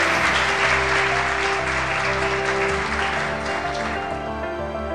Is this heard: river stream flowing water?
no